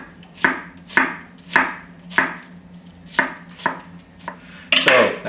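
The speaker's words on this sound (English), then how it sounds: "how to cut an onion." A kitchen knife cuts through an onion on a cutting board in slow, deliberate strokes, about eight distinct crisp chops close up, followed by a louder clattering scrape at the end.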